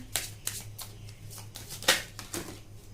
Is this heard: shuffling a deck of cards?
yes